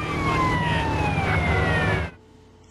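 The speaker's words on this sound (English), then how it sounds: "let me put my siren on so they move out my way" Police motorbike siren in Grand Theft Auto San Andreas wailing loudly over engine rumble, its pitch gliding slowly before the sound cuts off abruptly into near silence.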